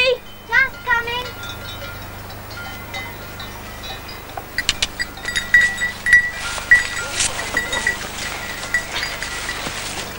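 Goats bleating in a pastoral mountain setting, several wavering calls early on, followed by clinking bells and other farm activity at moderate distance.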